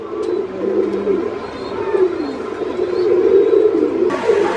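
Pigeons coo steadily in a cage collection at a farm, soft continuous low cooing from several birds blending with faint background chatter and a brief brighter noise near the end.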